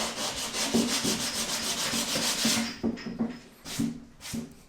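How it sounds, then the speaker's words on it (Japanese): Body putty with a black guide coat being sanded on the nose cone of a Caterham Super Seven, giving a steady, close rasping scrub in regular back-and-forth strokes that turn into short separate passes toward the end. "この状態でパテを研ぐと、"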